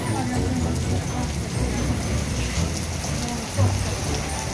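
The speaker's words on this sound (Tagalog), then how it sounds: "Ulan." Heavy rain falls steadily in Sestri Levante on the Ligurian coast, a dense, loud wash of drops with a low rumble underneath, while people talk beneath the downpour.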